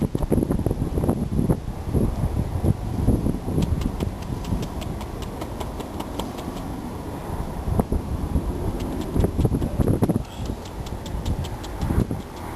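Wind blowing outdoors, a steady, close rumbling buffet against the microphone lasting throughout, with faint rapid ticking in the background.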